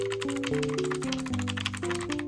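Rapid, loud clacking of keys typed on a mechanical keyboard, continuous over steady background music.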